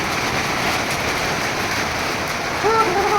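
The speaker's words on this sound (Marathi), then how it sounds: "तुम्हाला आवाज पण ऐकू येत असेल पत्र्याचा" Heavy rain pounds a metal sheet roof during a storm, a loud steady roar throughout, with a voice briefly rising over it near the end.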